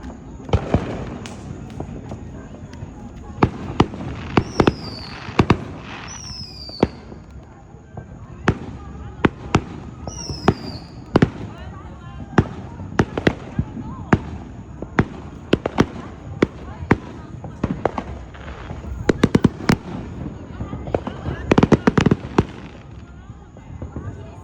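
A backyard fireworks show with big and small shells bursting, sharp booms and crackles repeating irregularly throughout, some near and loud, others farther off, with people chatting between the blasts.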